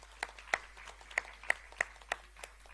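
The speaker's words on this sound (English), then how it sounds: "So with a round of applause, I would like us to appreciate and welcome on stage Mr. Alphonse Ochola." Sparse, faint hand claps from a small audience welcoming a speaker on stage at a student budget forum launch, heard as a few separate claps spaced roughly every third of a second.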